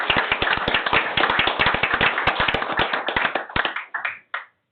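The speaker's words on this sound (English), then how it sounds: "We'll give them a round of applause." A round of applause from a room of people at a Board of Commissioners meeting, dense clapping at steady volume that thins out and fades near the end.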